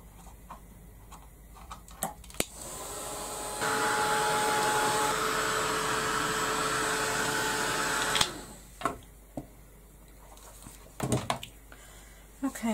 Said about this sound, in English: I'll give that a quick blast with the heat gun